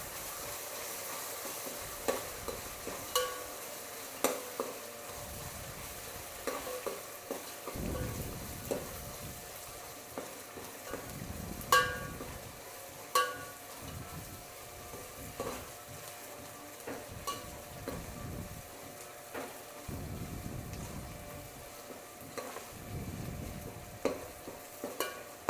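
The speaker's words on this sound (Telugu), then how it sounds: "ఈ అల్లం వెల్లుల్లి పేస్ట్ కూడా ఆయిల్లో బాగా వేగనివ్వాలి" Ginger garlic paste fries in hot oil over sautéed onions for an Andhra-style chicken pulao, a steady sizzle broken by repeated scraping stirs that come in bursts every few seconds, with no talking.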